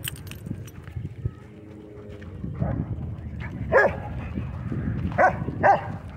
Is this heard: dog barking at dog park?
yes